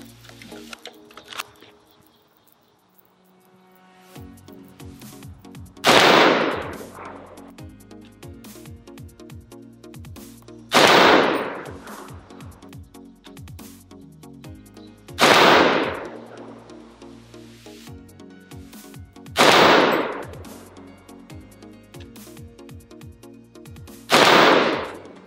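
Rifle shots from a PWS MK111 Mod 2 AR-15 piston upper chambered in 7.62x39, firing US-made brass-cased ammunition at a range: five loud, sharp reports spaced about five seconds apart, with faint clicks and handling noise between them.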